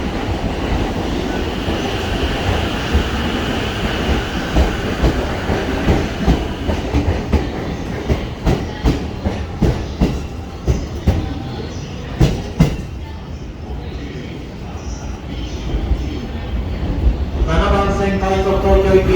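A JR E231 series out-of-service Musashino Line train pulls away from platform 8 at Shinjuku station, with a loud rolling rumble and rhythmic clickety-clack of wheels over rail joints. Near the end, a tonal sound that may be a chime or announcement begins.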